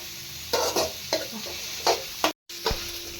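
Ingredients for egg rice being sautéed in a pan: a soft sizzle broken by several distinct scraping spatula strokes at a loose rhythm, with a brief dropout near the end.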